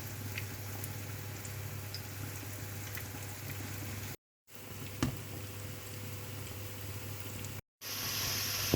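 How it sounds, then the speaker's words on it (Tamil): Food deep-frying in hot oil until crispy for a South Indian pongal lunch, a steady close bubbling sizzle with faint pops, broken by two brief silent gaps. "இது நல்லா கிறிஸ்பியாக வர வரைக்கும் இதை பொரிச்சிக்கோங்க"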